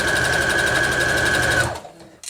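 A sewing machine stitches a corner label onto the back of a quilt, its needle whirring in a fast steady run up close before stopping abruptly, followed by a faint click.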